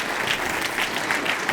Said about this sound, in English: How about a nice round of applause for Tom Dreesen?